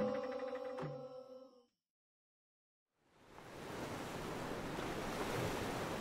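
Ocean waves break on a beach in Gabon near a hotel. Steady, rushing surf fills the last three seconds, following a short tonal sound and a moment of silence.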